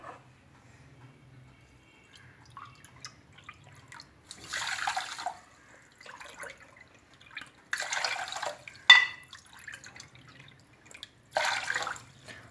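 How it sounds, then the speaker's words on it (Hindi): Water poured into a pan of sugar on a kitchen counter comes in several splashing bursts separated by quiet pauses, with faint drips and trickles between the pours. "इसके साथ मैं तकरीबन 4 कप पानी ऐड कर रही हूँ।"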